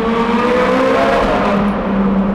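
A Ferrari 430 Scuderia engine revs hard in first gear, its exhaust valves opening near 6,500 RPM into a loud, steady, raspy howl that holds for a couple of seconds without pause.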